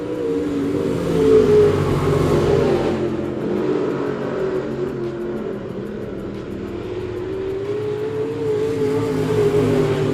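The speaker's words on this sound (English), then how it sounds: "Going to try to reel in that 27 machine of Trent Robinson." Race cars racing at Monett Motor Speedway, a continuous layered engine roar with pitch rising and falling as cars lap the track, heard from a distance without pause.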